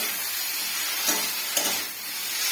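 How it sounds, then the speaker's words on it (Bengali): Finely cut potatoes fry in white oil, giving a steady, even sizzle with two brief stirring scrapes partway through and no talking. "সাদা তেলে ঝুরঝুরি আলু ভাজা।"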